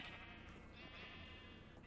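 Sheep bleating from pens of many-coloured sheep in the Minecraft video game, a dense, steady wash of overlapping bleats filling the whole stretch with no talk.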